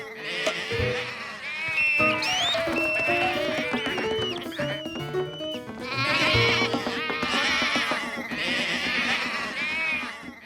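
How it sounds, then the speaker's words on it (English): Cartoon sheep bleating in a Curious George episode, a flock of overlapping wavering bleats, fairly loud and continuous, with a short pause before a second swell of bleating. "The sheep ended up at George's house."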